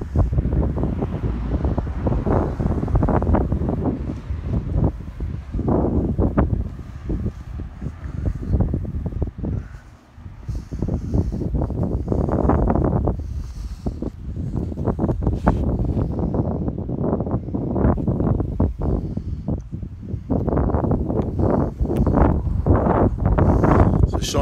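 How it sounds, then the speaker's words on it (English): Wind gusting on a stretch of coast, a steady loud rumble buffeting the microphone with some surf in the background, while a person talks over it almost throughout. "Now I'm walking along here, the wind blowing in my hair."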